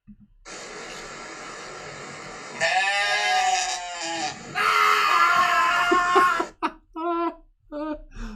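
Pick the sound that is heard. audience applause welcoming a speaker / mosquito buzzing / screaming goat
screaming goat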